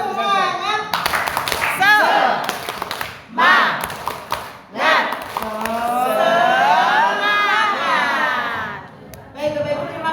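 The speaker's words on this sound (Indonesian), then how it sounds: "Tepuk semangat" A group of teachers at a training session performs a rhythmic encouragement clap, bursts of patterned clapping mixed with voices chanting along, loud and close, pausing briefly between rounds.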